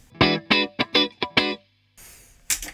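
An electric guitar through a Line 6 Helix with compression plays six quick, even notes, then a soft strummed scrape and one final bright strike, close up with no voices.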